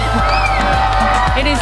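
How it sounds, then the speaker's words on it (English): A dense outdoor crowd cheering and whooping during a total solar eclipse, a continuous loud roar with someone talking close over it. "You can hear the crowd behind me."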